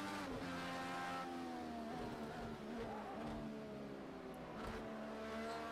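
An Indycar race car engine in Project Cars 2 at Sonoma, with a high-pitched engine wailing steadily, shifting pitch through gear changes as it accelerates and lifts, close and loud with no talk.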